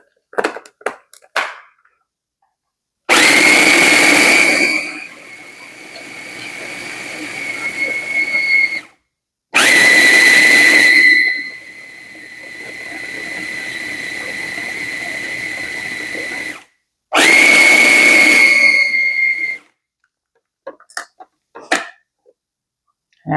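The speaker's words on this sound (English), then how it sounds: "I want everything to have its fair share of grinding and chopping and incorporation." A blender grinds and chops basil leaves with salt in three long, loud bursts, its motor whining steadily, with short pauses and faint handling noises between runs.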